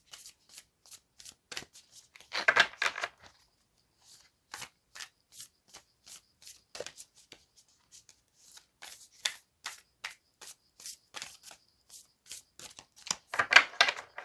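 Oracle cards being shuffled and pulled from a deck, a quiet, close series of crisp riffles and short card snaps, with two longer shuffle bursts and many brief taps separated by silence.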